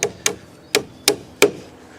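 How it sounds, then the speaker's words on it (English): Twisted nails are hammered into a timber garden room frame, five sharp, close metallic strikes landing at an uneven pace. "nailing them every single hole"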